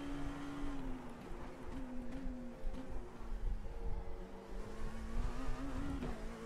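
Dallara LMP2 race car in the iRacing sim, its engine revving steadily at close range, pitch rising and falling as power shifts, with a continuous tonal whine over rumbling engine noise.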